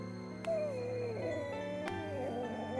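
A cartoon dog howls and whimpers, one long wavering howl sliding into whining cries, loud and close over a steady musical background.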